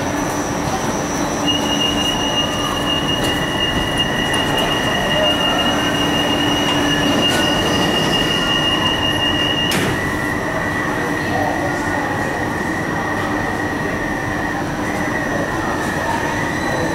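An automated driverless metro train in Copenhagen pulls away from the platform, its motor whine rising and wheels squealing in sustained high tones, loud and close over a constant rumble.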